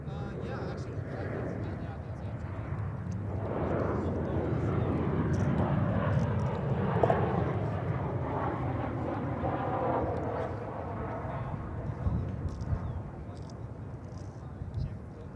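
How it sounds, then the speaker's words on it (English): American Airlines jet arriving at Dallas/Fort Worth Airport from Montego Bay, a broad roar swelling and fading as it passes at a distance, with a person talking over it throughout. "Next to arrive here is a Caribbean arrival, American Flight 896 from Montego Bay."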